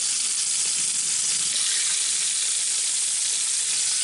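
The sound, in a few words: rabbit pieces browning in a hot Dutch oven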